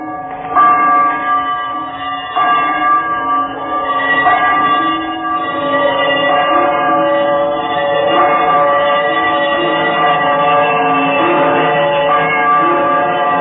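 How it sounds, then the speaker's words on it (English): Church bell sound effect in a 1938 radio drama adaptation of A Christmas Carol, a sustained resonant ringing with layered overtones that swells and holds steadily throughout, loud and alone with no voices. "he saw this bell begin to swing."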